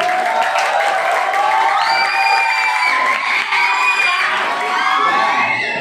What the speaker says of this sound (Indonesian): Tepuk tangan untuk yang tengah yang selalu semangat.